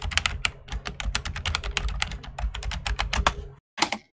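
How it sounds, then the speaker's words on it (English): Fast, loud typing on a computer keyboard, a dense run of sharp clicking keystrokes close to the mic that stops briefly and ends with a couple of final taps. "Who's breaking a keyboard in the background?"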